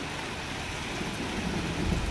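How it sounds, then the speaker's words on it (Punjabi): Steady heavy rain hisses across the whole clip, a dense broadband wash with no voices, swelling slightly louder toward the end. "ਹੁਣ ਦੇਖੋ ਕਿੰਨੀ ਬਰਸਾਤ ਹੋ ਰਹੀ ਹੈ"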